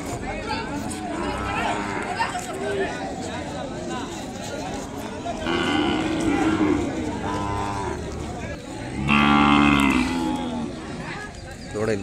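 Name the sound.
cattle and calves mooing at a livestock market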